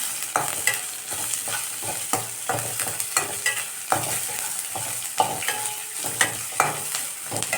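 Mint and coriander leaves sautéed in a pan for mint chutney, with a soft frying sizzle under repeated scraping stirs of a spoon against the pan, steady and close, with no talking.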